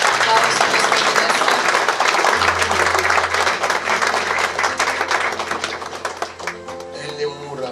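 Church congregation applauding and cheering to acclaim the Lord at a Sunday service, dense sustained clapping with crowd voices over a low organ drone, fading into music at the end.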